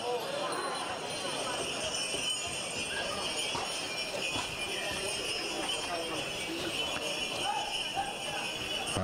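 Horse hooves clip-clopping at the start of a Sa Carrela 'e Nanti horse race in Sardinia, a steady busy patter carried under constant crowd noise and background chatter for the whole stretch.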